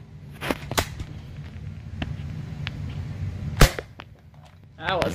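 Nerf foam dart blaster fired in a backyard Nerf battle, one loud sharp pop after a few faint clicks, followed by a short vocal exclamation.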